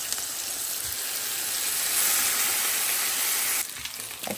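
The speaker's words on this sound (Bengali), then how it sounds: "এক চুলায় দিলাম মাছ ভাজতে, ডাল, বেগুন।" Rohu fish fillets sizzle steadily in hot oil in a pan, a dense continuous frying hiss that drops abruptly near the end, with no talking.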